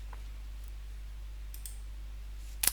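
A single computer mouse click, sharp and close, comes right at the end after a quiet stretch with faint background hum and a few soft ticks.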